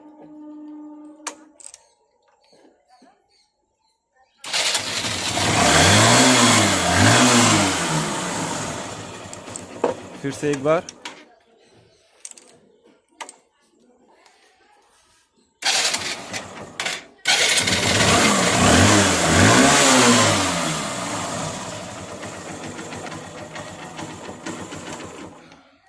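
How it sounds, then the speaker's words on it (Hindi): A Honda motorcycle is started twice with its self-starter after a repair. Each start gives a loud, close burst of cranking that catches into a steady running engine for several seconds, with quiet gaps and brief talk between them. "चलिए हम गाड़ी चालू करते हैं और देखते हैं सेल्फ स्टार्ट लेता है या नहीं"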